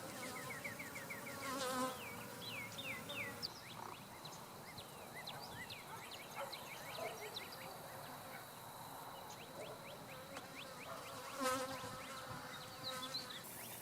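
Honeybees hum in a steady, close buzz around an open hive as honey frames are handled, with clear bird chirps and a couple of louder passing buzzes over a faint outdoor background.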